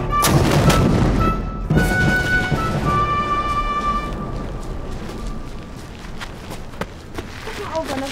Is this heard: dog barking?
no